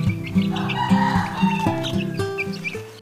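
Chickens cluck repeatedly and close by, soft rhythmic clucks overlapping with brighter calls.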